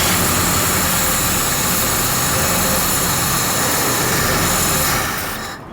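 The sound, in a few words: 1968 Mercury Cougar 289 engine being started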